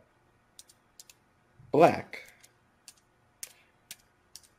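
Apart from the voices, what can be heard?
typing on a computer keyboard with one hand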